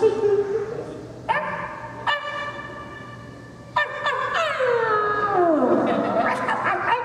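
A voice actor imitates a dog with a run of barks, yips and a rising then falling howl-like whine, close and loud, with no other talk.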